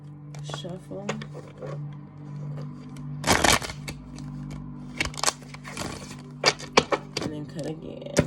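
Tarot cards are shuffled and handled in short, crisp riffling bursts, with a steady low hum underneath and a few scattered clicks.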